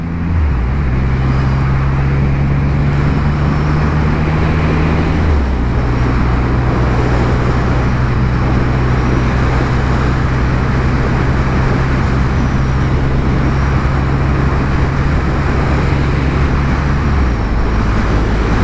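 A car cruising on the long open highway across the Nullarbor Plain in Australia, a steady loud engine drone and road roar running throughout, with a brief drop in engine pitch partway through and no talking.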